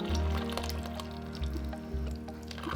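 Very hot liquid soap batter for rose-scented, red-tinted hot process soap is poured slowly and carefully, a soft continuous trickle and splash under a steady background hum.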